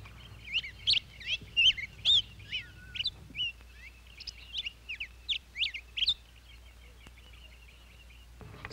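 A man imitates a bird call with his voice, a run of sharp, high, whistled chirps in quick bursts, close and clear over a quiet room, with a brief pause midway before the calls continue.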